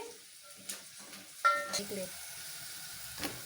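Tomato pieces fried with onions and turmeric in a pan, stirred now and then: quiet clinks and scrapes with a light sizzle in between, while a voice speaks softly.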